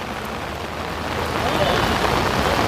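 Heavy monsoon rain pours steadily in a dense, continuous hiss with no breaks.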